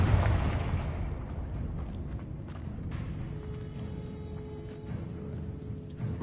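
A Confringo blasting spell explodes in the Hogwarts Legacy video game, a heavy low boom at the outset that rumbles and decays into crackling debris and a faint sustained tone.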